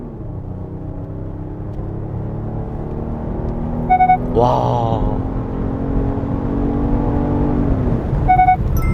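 A Genesis GV80 3.5T gasoline SUV accelerates hard with its active engine sound, a steady rising drone building over several seconds, heard from inside the cabin with a brief exclamation from the driver.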